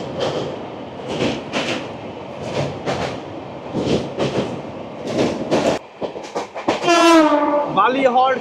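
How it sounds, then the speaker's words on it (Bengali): The Kanchanjunga Express, a Sealdah–Sabroom train, crosses the Bally bridge over the Ganges with rhythmic wheel clatter over rail joints, close and loud, ending in a long blare of the horn. "এই প্রথম কাঞ্চনজঙ্ঘা এক্সপ্রেস বালি ব্রিজ পার করছে"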